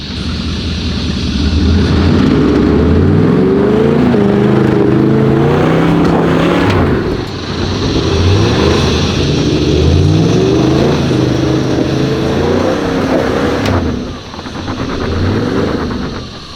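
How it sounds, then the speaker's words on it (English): A 4WD engine revs hard while climbing in first gear low range, loud and close, with repeated rising and falling revs and brief dips between pushes. "I'd be first gear low range with a bit of momentum and just bulldoze your way up there"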